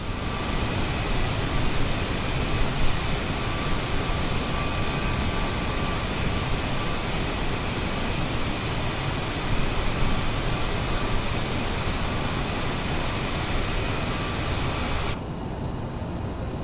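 Engines of an Aerosoft CRJ regional jet in Microsoft Flight Simulator, flown by hand on a quick circuit, give a loud, steady turbine roar with a thin whine. The roar drops sharply to a duller rumble near the end.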